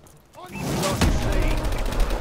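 Gunfire in a Call of Duty: Advanced Warfare online Domination match, a sudden loud burst of rapid shots after a quieter start, with game voices faintly underneath.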